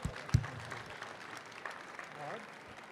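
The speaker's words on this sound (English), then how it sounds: "help me with a round of applause from our two guests here" A convention audience gives a round of applause for two guests, clapping that swells briefly over a host's voice and then fades.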